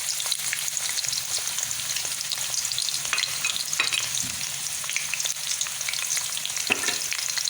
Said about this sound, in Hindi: हाफ़ कप घी मैंने ले लिया, गर्म हो चुका है। और अब इसमें मैं एक बड़े साइज़ का प्याज जो बारीक कटिंग कर लिया है